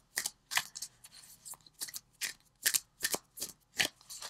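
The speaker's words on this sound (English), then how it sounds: "I'm going to pull an Animal Wisdom deck, or Animal Wisdom card from the Animal Wisdom deck." A deck of Animal Wisdom oracle cards being shuffled by hand, a run of crisp riffling bursts about every third of a second, close and clear, with no voices.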